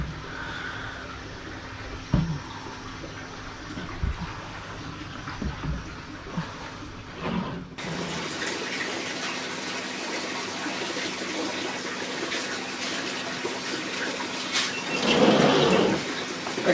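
Continuous rushing of hot salted water pouring, steady and close, with a brief louder gush near the end and quieter clinks before it begins.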